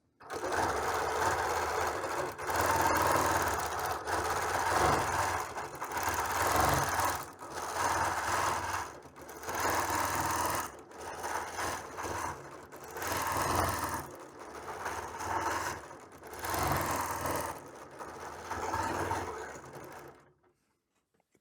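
A Q20 quilting sewing machine stitching along a quilt border, its fast motor hum and needle rattle running in long bursts separated by brief pauses, close and loud, then stopping near the end with no talking.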